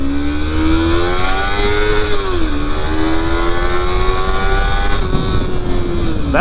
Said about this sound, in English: I hit the rev limiter on this thing.